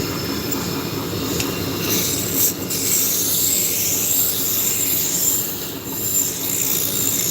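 A wood lathe spins a workpiece while a spindle gouge cuts it, producing a loud, continuous rushing and grinding noise with a faint high ring that dips briefly now and then. No talking is heard.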